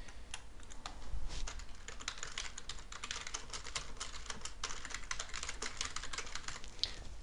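Steady rapid typing of a company name on a computer keyboard during account setup, a dense, continuous patter of key clicks heard close up with no talking.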